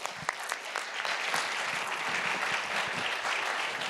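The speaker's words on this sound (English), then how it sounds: "Let's give them all a round of applause." Audience at a Chamber of Commerce gathering applauding, a few scattered claps at first swelling into a dense, steady round of clapping that holds to the end.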